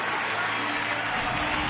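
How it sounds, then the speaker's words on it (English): A baseball crowd in Washington gives a closer a standing ovation as he heads to the mound for a save, a steady, loud wash of applause with no break. "many of them standing and applauding. It was a nice ovation"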